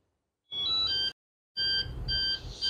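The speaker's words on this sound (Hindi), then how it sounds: "जब इसमें ये बीप का साउंड आने लगे और ये रेड हो जाए इस तरीके से" A hoverboard emits two electronic beeps during calibration after a long press of its power button: a short tone, a pause, then a longer warbling beep, close and moderately loud with faint mechanical rustle beneath.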